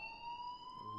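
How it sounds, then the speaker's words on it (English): An alarm rings steadily in the video game Life Is Strange, a loud, continuous electronic tone held without a break, with no talk over it. "please turn off that alarm since that's your job"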